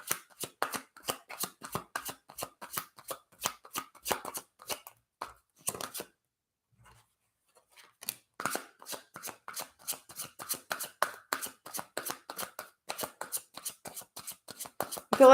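Tarot cards shuffled by hand in quick, crisp riffles, close and clear, with a short pause before the brisk shuffling resumes.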